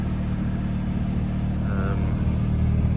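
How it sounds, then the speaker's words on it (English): A 90s Honda car with a noisy clutch idles close by, a steady low rumble with an even, unchanging hum throughout. "listen to how well it's idling. Obviously that clutch is noisy"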